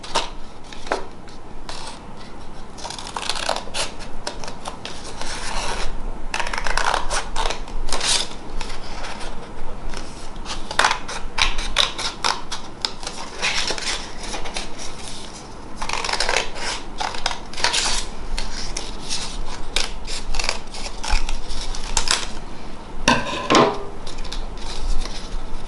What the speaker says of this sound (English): once you've drawn your image, you are going to cut it out